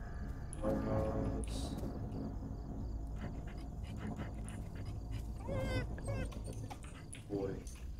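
A dog in the Fears To Fathom game whimpers and pants in short bursts of high yips and whines, spread over steady background noise with a low rumble.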